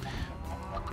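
Hurt squawks of a chicken from a Minecraft tech modpack, a short loud honking cluck filling the whole second with no talk over it.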